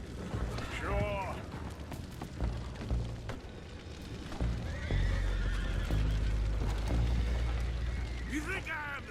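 Horses neighing in Red Dead Redemption 2, a couple of loud whinnies near the start and end over clopping hooves, rumbling mechanical noise and voices talking.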